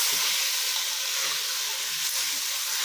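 Spices and vegetables roasting in a pan for vegetable pulao give off a steady, close sizzle and hiss that carries on unbroken without any talk.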